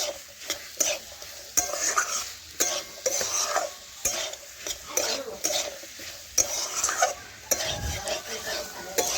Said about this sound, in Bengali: এখন 2 থেকে 3 মিনিট আমি পেঁপেও ভালোভাবে কষে নেব মশলার সাথে।